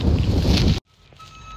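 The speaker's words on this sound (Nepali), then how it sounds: "सुन्नुभयो त तपाईँहरूले हावाको साउन्ड अहिले" Strong wind gusts roar against the microphone outdoors for under a second, then cut off abruptly into near quiet with faint background sound.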